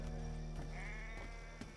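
A lamb bleats once in the video game Assassin's Creed III, a faint, short wavering call set within a steady hum of game ambience and background tones.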